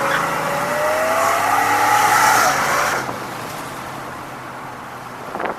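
A car accelerating away during an informal race at a car show, its engine note rising and sweeping upward loudly for about three seconds before fading into a quieter, more distant rumble.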